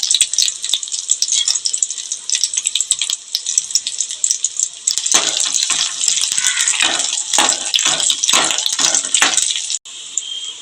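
Garlic and dried red chilies sizzling in hot oil for a village-style pappu charu, a steady bright hiss that swells into louder crackling bursts partway through, heard alone without speech.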